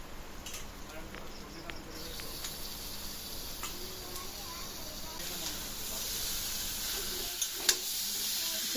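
Chicken pieces drop one by one into hot frying spice paste in a home kitchen, giving a steady bright sizzle and hiss with a few clinks and stirring bumps near the end.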